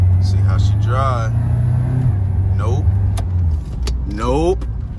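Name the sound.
used Chevrolet Suburban being driven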